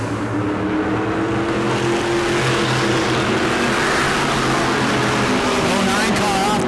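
Modified race cars lap the track at New Smyrna in a 602 Mod race, a loud, continuous engine roar with droning harmonics, steady and close, with a commentator talking over it.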